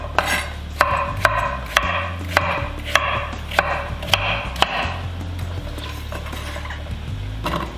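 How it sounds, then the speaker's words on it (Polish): A knife dices roasted pumpkin into thick cubes, giving a steady run of sharp, close chopping knocks with short gaps between them and no talking. "Dynię pokroję w grubszą kostkę."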